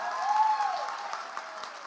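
A church congregation applauds during a celebration service, a steady crowd of hands clapping with a brief whistle-like cry rising early, then tapering slightly.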